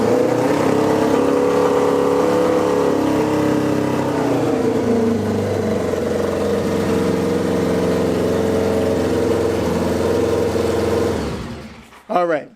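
A Ford Crown Victoria 4.6 2V V8 runs with a steady loud idle that wavers slightly in pitch, then cuts off near the end followed by a brief clunk.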